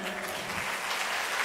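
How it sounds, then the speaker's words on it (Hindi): A short burst of crowd clapping at a Hindu religious discourse, dense and fairly loud for about a second and a half. "ताली और इससे कम बजा के देखना।"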